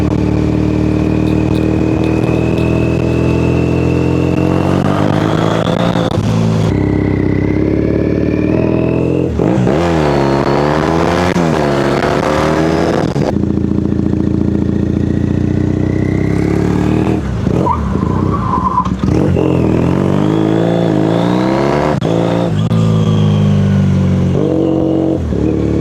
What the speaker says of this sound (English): Sounds great, this bike